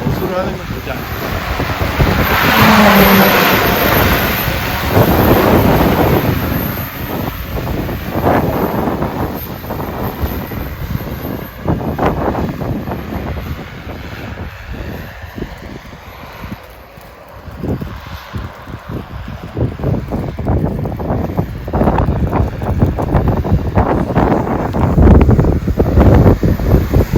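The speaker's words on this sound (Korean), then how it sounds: "참고로 바람 많이 불어가는 데가 있어요." Strong gusty wind buffets the microphone throughout an outdoor flight test of an agricultural drone on an EFT G416 frame, roaring unevenly, with talk faintly underneath.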